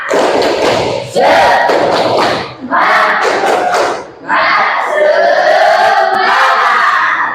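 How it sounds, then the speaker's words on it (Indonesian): A classroom of pupils performs the tepuk semangat chant as an ice-breaker, loud shouted group phrases alternating with bursts of clapping and thumps, in several energetic waves close by. "nah kita ice breaking dulu ya, ice breaking dulu ya. Tepuk semangat."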